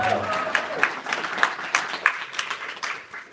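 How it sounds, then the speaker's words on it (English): An audience applauds a performer at a summit, with crisp claps rising and falling in a loose rhythm and some voices mixed in. "You can applaud me."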